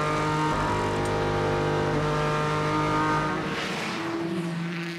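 Ford GT race car with a 3.5-litre EcoBoost engine at a six-hour endurance race at the Nürburgring, a loud steady roar passing close by, then fading and dropping in pitch as it moves away.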